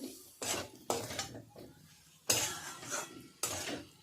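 A spoon scrapes and knocks through a thick kabuli roll filling in a pan, in separate rhythmic bursts of metallic scraping with quiet gaps between them, close and alone.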